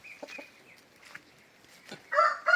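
A Sussex rooster crows faintly and briefly amid soft clucks, then louder bursts of crowing close by near the end.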